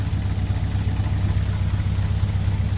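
A classic car with a 6-volt electrical system idles close by, a steady low rumble with an even pulsing beat that holds without pause and no voices.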